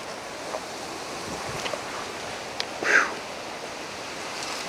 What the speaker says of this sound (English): it's getting windy out here already